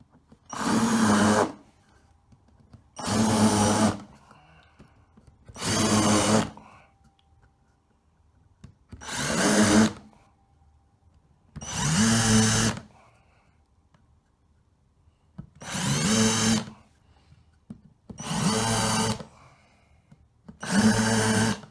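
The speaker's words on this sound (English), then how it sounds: "So now I'm going to countersink those holes." A drill countersinks a row of holes in a kitchen worktop, sounding as eight separate bursts of whirring and cutting, each lasting about a second, with quiet gaps between them, close and steady.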